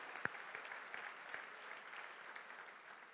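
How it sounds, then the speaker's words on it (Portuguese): A church congregation applauds in a steady, faint wash of many hands clapping, with a few sharper claps standing out early. "Pode aplaudir a Ele, porque Ele fez isso."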